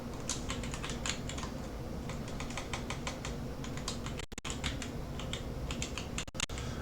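Keys clatter on a computer keyboard as a folder name is typed, quick bursts of close, crisp keystrokes with brief pauses between groups, no voices.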